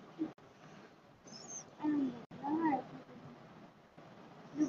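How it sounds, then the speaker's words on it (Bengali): Cats fighting: intermittent yowls and growling cries rise and fall over a quiet background, with short sharp squeals between them, heard fairly close. "কবুতরের ভিডিও রেখে এখন বিড়ালের ভিডিও করতেছি ভাই। এই যে মারামারি করতেছে দেখেন"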